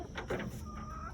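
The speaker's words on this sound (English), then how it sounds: "The rooster crowing is quite terrifying." A rooster on a small egg-laying farm gives a short, close crow, harsh and brief, with some low background rumble.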